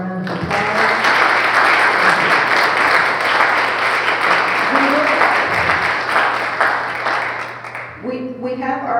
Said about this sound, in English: let's give Dr. Jones one more round of applause